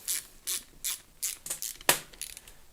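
Ratchet clicking as a bolt is tightened down on a Magneti Marelli alternator for a 300Tdi: a series of crisp close ratcheting bursts in an uneven rhythm, with one sharper metallic knock near the end and no talking.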